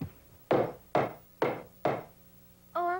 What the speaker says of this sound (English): I hope I don't bother you with this hammering.